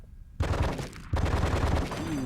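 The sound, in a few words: gun firing in the video game Die Hard: Vendetta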